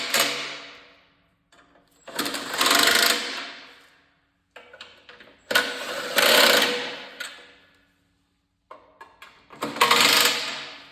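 Three bursts of ratcheting on bolts during a garden tiller repair, each a rapid mechanical clicking run of about a second or two with short pauses and lighter taps between, close and fairly loud.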